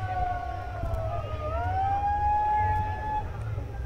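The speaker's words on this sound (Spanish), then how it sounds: "La ambulancia del futuro" An ambulance siren wails in rising and falling sweeps during a carnival parade in El Contadero, Nariño, at moderate distance over a low rumble of crowd and traffic.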